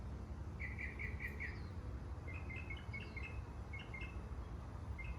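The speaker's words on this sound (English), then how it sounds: "Can you hear the beautiful birds?" Small birds chirp in a garden in quick bright bursts, a rapid trill followed by scattered short calls, faint against a steady low background hum.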